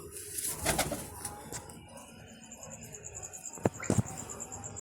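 A pigeon at a loft coos softly among light rustles and a few wing flutters, fairly close, with no talking.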